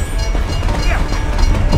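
A train in the Toy Story 3 PS2 video game gives off a short burst of rumbling, clattering rail noise over a dense, loud game soundtrack, with no voices.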